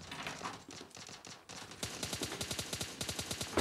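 Rapid gunfire in an online shooter game, a fast string of evenly spaced shots following a brief muffled burst, moderately quiet and continuous to the end with no talk.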